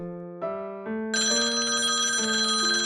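A telephone rings in a police station with a steady electronic ringtone, stepping up in layered tones and then holding loud and sustained, with no voices.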